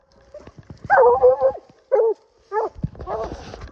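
A hunting dog in North Carolina bottomland gives several loud, close barks and yelps in short bursts, with rustling and brief movement noise between them.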